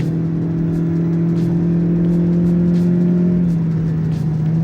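A 2023 Lexus ES 300h F Sport hybrid pulls away under acceleration with a steady, smooth whirring drone that rises slightly and holds at an even loudness throughout, close-up from inside the car.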